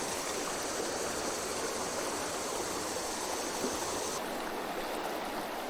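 Fast river water pours over a rocky riffle in a steady, close, broadband rush, continuous and fairly loud throughout, with no voices.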